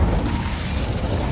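Incendio fire spell cast in Hogwarts Legacy on PC, a steady, loud, low rumbling whoosh of flames that fills the whole short moment without a break.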